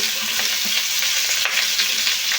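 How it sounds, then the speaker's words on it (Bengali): Potatoes, banana, papaya and broad beans fry together in a pan for Bengali shukto, a loud, continuous close sizzle with steady stirring scrapes throughout. "এই সবজিগুলো একসঙ্গে আমি কষে নেব"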